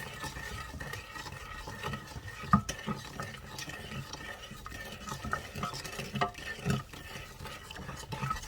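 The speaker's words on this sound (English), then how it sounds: "I'm going to be stirring for a couple minutes" A spoon stirs whole milk and sugar in a pot for butter pecan ice cream, soft repeated scraping and swishing with a couple of sharper clinks against the side, quiet and close.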